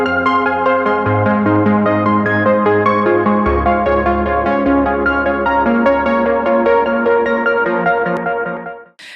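Synth playing a randomly LFO-modulated octave pattern, with bright stepping notes jumping unpredictably over a sustained low bass, loud and continuous before fading out at the end.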